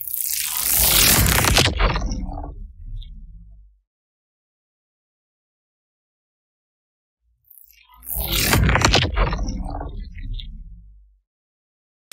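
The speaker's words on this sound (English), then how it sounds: "You load up the denoiser little module there and then play with this threshold right here." Sound processed by a misused denoiser plugin: two bursts of harsh, gritty noise with a sweeping filtered quality, each fading away, separated by several seconds of near silence.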